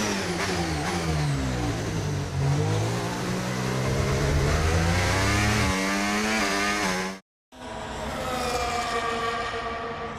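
A Formula 1 car engine in the racing game F1 25 screams loudly and continuously, the pitch sweeping up and down through gear changes, with a brief cut to silence near the end before the whine resumes.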